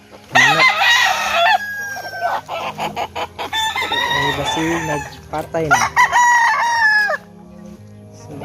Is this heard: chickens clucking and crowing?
yes